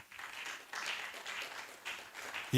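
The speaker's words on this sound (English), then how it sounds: "Let's clap for him, please." Conference audience applauding the closing address by the director at the E2A 2025 conference, a steady wash of many hands clapping in a hall, moderately loud and continuous without pause.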